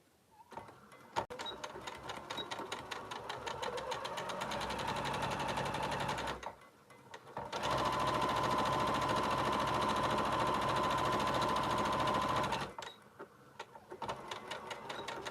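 A sewing machine stitches fabric edges for a sling bag in two long steady runs of rapid mechanical whirring, pausing briefly between them, close and fairly quiet with no talking.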